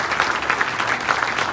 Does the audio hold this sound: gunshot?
no